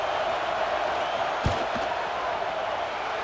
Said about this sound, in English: crowd trying to do its part to get inside the kicker's head